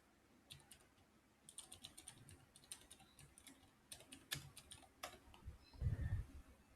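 Keystrokes on a computer keyboard as a terminal command is typed while setting up Laravel Sail with Docker, coming in quiet irregular bursts of clicks followed by a few louder taps near the end.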